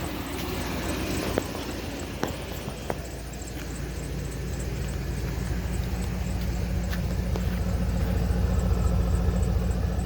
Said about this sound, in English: That exhaust sounds good too.